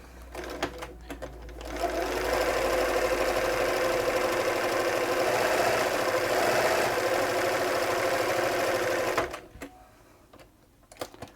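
A Bernina 930 Record electronic sewing machine set to stretch stitch starts after a few handling clicks, sews with a loud, even motor hum and rapid stitch clatter for about seven seconds, then stops.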